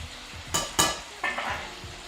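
Meat sears in a hot pan with a close, steady sizzle. A few sharp scraping or stirring knocks from a utensil cut in over roughly two seconds.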